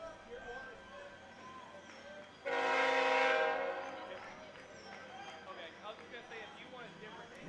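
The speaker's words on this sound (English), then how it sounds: "I'm not sure if the train is louder this year or just don't recall it right." A train's horn blares loud and close for about a second and a half beside a baseball field during a college tournament game, then fades back into a low crowd murmur.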